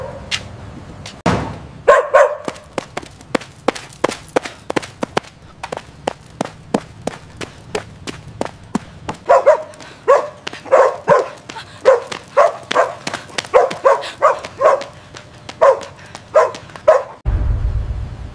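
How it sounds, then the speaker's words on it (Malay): A dog barks in long runs of sharp, rapid, loud barks close by, with brief pauses between volleys and no talking over it. "Alamak, ada anjing pula ni."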